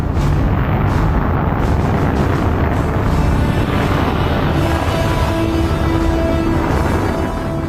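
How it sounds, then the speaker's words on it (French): The Apollo 11 rocket launch in Florida, July 1969, produces a massive continuous roaring blast, loud and dense throughout with a deep rumbling low end and no pause. "une incroyable déflagration perturbe le calme matinal"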